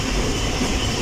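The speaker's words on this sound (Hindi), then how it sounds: "फुल स्पीड पर जा रही है 110 किलोमीटर पर आवर।" The Awam Express passenger train runs at full speed, about 110 km/h, a steady loud rushing roar of wheels and carriages heard close, with no talk.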